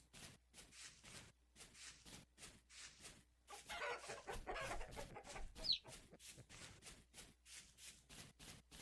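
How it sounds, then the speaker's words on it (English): Chickens clucking in the survival game Vintage Story, soft repeated clucks in short bursts over a steady low game ambience, growing busier and louder midway, with no talking. "I guess they kind of sound like chickens."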